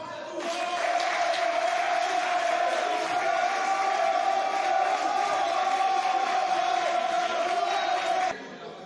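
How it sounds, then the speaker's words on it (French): An assembly crowd at a sports club's election general meeting roars and cheers in acclamation of a candidate, a loud sustained mass of shouting voices that holds steady and then drops off abruptly near the end. "je demande qu'on passe par l'acclamation"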